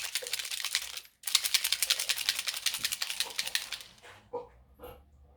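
A homemade spray ink bottle shaken hard to remix, a fast loud rattling that runs steadily for about four seconds with one short break, then trails off into a few lighter knocks.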